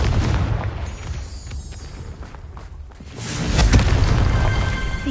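A Confringo fire-blast spell explodes in Hogwarts Legacy, a dense booming burst that swells near the end, with no voices heard.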